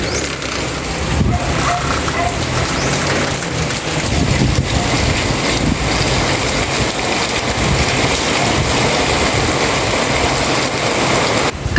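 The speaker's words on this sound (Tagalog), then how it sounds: "umulan na." Steady, heavy rain hisses continuously on surfaces, dense and loud throughout, with a faint low rumble underneath.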